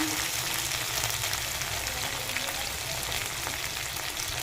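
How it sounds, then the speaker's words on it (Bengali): Spices with ginger paste frying in a pan for a Bengali egg curry, a steady close sizzle and crackle filling the whole stretch, with faint stirring scrapes and no voices. "দিয়ে ভালো করে মশলাটা সঙ্গে কষিয়ে নেব"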